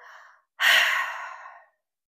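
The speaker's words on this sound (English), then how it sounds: "Maybe take a nice big breath and let it go" A big, deep breath drawn in and slowly let out during a festive heart-opening yoga session, close and clear, with one long exhale lasting about a second after a brief pause.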